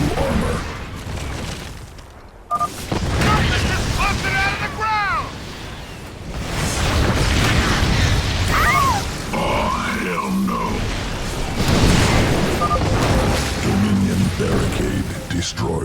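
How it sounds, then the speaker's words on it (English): Barricade being destroyed in StarCraft 2: Heart of the Swarm, with booming explosion bursts and rumbling impacts mixed with game voices and grunts. A sharp blast lands early, followed by further heavy rumbles across the stretch. "Barricade destroyed."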